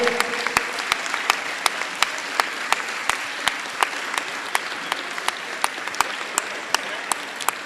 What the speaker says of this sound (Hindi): सभी खड़े होकर ताली बजा के अभिनंदन करिए आनंदलाल जी का।